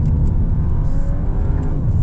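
Skoda Superb 195 TSI with all-wheel drive accelerating hard at full throttle on tarmac, a loud, deep, steady engine roar heard from inside the car, no talking.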